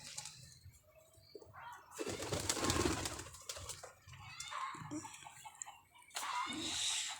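Pet pigeons cooing and shuffling nearby in a loft, soft repeated coos mixed with bursts of rustling and wing movement, fairly quiet overall with no talk.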